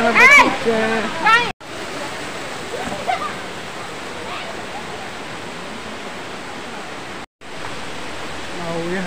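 A waterfall at Harishankar in Balangir roars as a steady, broad rushing wash of water, loud and continuous, with voices briefly heard near the start.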